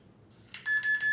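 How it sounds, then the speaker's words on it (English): Timeout buzzer from the OtoSim 2 otoscopy simulator software: three loud, evenly spaced electronic tone bursts, clear and close, with no talk over them. "you'll hear it gives me the buzzer"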